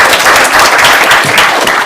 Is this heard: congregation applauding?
yes